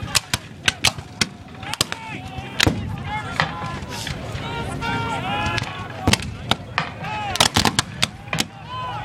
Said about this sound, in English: they can begin to hear the sounds of the artillery and the musketry in the distance west of Gettysburg.